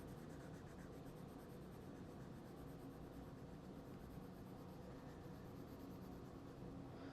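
A pen or pencil draws zigzag lines on paper, a faint steady scratching rub that continues without pause, close by and quiet, with no one speaking.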